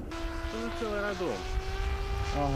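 Small drone aircraft buzzing overhead north of Toretsk near the front line, a steady droning whine with shifting pitch that holds throughout against a noisy outdoor background.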